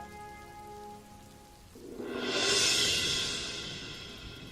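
Soft rain patters steadily, then a broad hissing wash of heavier rain swells up and slowly fades back, with faint musical tones at first.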